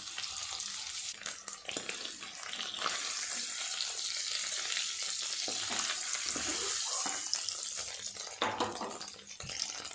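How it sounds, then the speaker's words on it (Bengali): Pieces of paneer frying in hot oil in a home kitchen, giving a steady, dense sizzle and crackle that runs for the whole stretch with a few brief stirring or handling noises, close and fairly loud, no one talking. "বাকি পনিরগুলো আমি এইভাবে ভেজে নেব"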